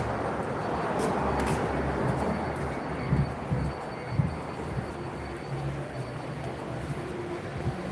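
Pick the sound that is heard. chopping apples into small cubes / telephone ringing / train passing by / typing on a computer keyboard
train passing by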